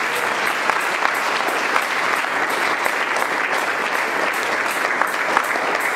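Steady applause from a church congregation acclaiming the Lord during a service, dense continuous clapping at close range that holds evenly throughout.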